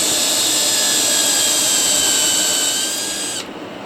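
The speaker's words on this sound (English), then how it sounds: "drill holes. Makes it a whole lot easier for the screws to go in through this fiber concrete board" A power drill bores holes through fiber concrete board while mounting a fossil, a loud steady high-pitched whine that holds for about three seconds and then drops away as the drill stops.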